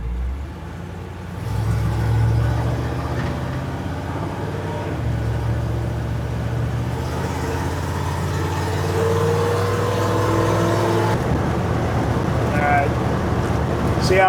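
A small block Chevy engine fitted with a 950 CFM carburetor drones steadily while the car is driven at speed, its pitch shifting slightly with throttle. Someone talks over it throughout.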